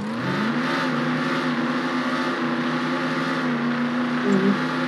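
A Lamborghini Urus and another Lamborghini race off the line, a loud, sustained engine roar with rising harmonic drone heard close and continuous, no voices.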